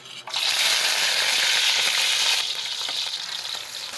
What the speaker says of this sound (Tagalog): Ipiprito ko po muna yung langgonisa niya.